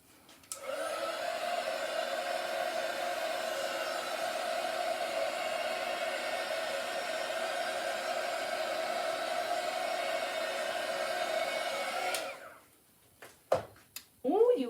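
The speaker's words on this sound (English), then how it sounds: "I'm going to go ahead and hit it with the heat gun before I start" A heat gun blows steadily over a freshly poured strainer paint pour on a round canvas, a loud even whooshing hum that runs for about twelve seconds, then cuts off and is followed by a few brief knocks.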